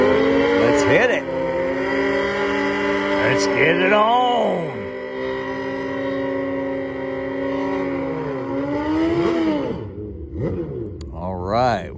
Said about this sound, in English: that's an interesting motorcycle race